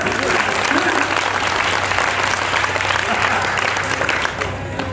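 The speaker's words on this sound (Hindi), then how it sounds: "एक बार जरा खुल के बता दीजिए ताली यार" Dense audience clapping fills the air at a kavi sammelan poetry gathering, a sustained, fairly loud patter of many hands with crowd murmur underneath, fading a little near the end.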